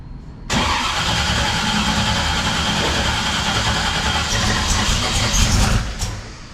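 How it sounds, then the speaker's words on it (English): A twin-turbo LSX-powered Chevy Chevelle engine cranks loudly and continuously without catching, a sustained churning whir that starts abruptly and runs for several seconds before dropping away. "All right, so the engine's not gonna fire."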